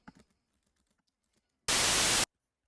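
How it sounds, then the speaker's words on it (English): A burst of loud, steady white noise hiss lasting about half a second, preceded by faint clicks and followed by silence. "you take a sample of white noise"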